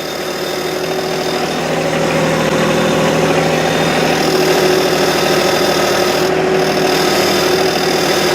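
A four-wheel-drive vehicle's engine drones loudly and steadily under strain with spinning wheels losing traction, a continuous close-up roar with no talk.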